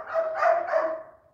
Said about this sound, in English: Sorry if you can hear dogs barking, it's my neighbor's dogs.